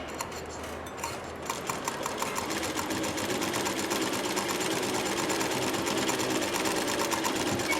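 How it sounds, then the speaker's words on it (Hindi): Sewing machine stitching over folded cloth for a stitching class, running steadily and fairly loud with a fast even motor whir throughout, no talking. "हमको इसके ऊपर से ही सिलाई लगानी है।"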